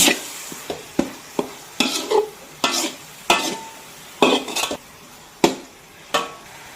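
Garlic and shallots fry in a little oil over medium-low heat, with close, repeated stirring scrapes and clinks of a utensil against the pan over a soft sizzle.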